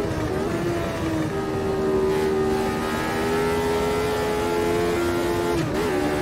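Lotus 79 race car in Automobilista 2 held in fifth gear, a steady loud engine drone with a sustained pitch that slowly rises, continuous for the whole stretch with no talk over it.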